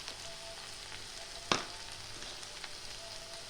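Coriander, turmeric and chili powder with ginger-garlic paste fry in a pan with a steady, close sizzle. A single sharp knock of the spoon against the pan sounds partway through; no one talks.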